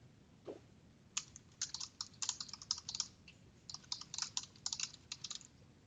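Computer keyboard typing while information is entered into an online order form: a quick, irregular run of close, crisp key clicks in bursts with short pauses, no talking.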